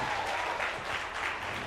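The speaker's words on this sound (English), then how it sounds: "Can we give a round of applause to them?" A crowd at a comedy night claps in steady, dense applause for a group of performers, a continuous roar of hands without talk.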